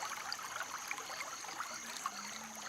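A river flowing in the VR game Nature Treks VR, a constant trickling, bubbling water sound close by, with small splashy ripples and a thin high insect-like tone running through it.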